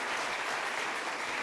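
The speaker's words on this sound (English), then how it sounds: "give them a round of applause, everybody" Audience applause at the Edmonton 2022 UCP leadership debate, a dense, steady burst of clapping from a full room that holds at an even level throughout.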